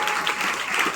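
An audience bursts into brisk, dense applause at a teacher's retirement farewell ceremony, filling the room evenly for a brief moment.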